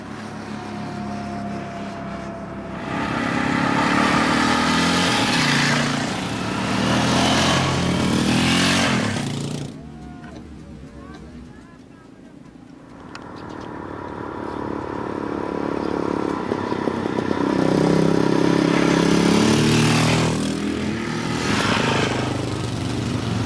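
Motorcycle riding on a road in Pakistan on the way south to Karachi, its engine droning loud and close with swelling and easing throttle, a brief quieter dip midway before the roar builds again.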